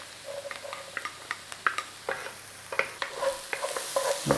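Garlic sizzles in a hot pan over browned fond while a utensil stirs and scrapes it in quick, irregular strokes. The frying is close and steady, with no voices.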